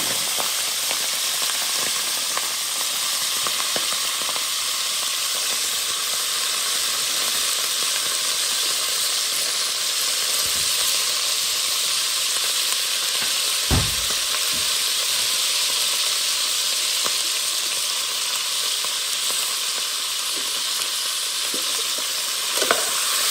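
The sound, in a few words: sausages frying in oil in a cooking pot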